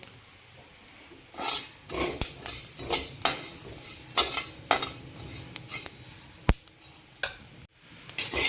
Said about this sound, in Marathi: कढईमध्ये आपण थोडेसे धने नंतर थोडेसे जिरे भाजून घेणार आहोत